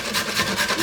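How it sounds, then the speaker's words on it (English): Carrot grated against a grater: a brief, loud, continuous rasping scrape with a few rhythmic strokes, close up and without talk. "So basically I'm going to be grating some carrot"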